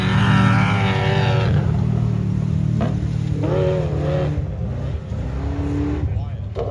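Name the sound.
offroad race truck engine revving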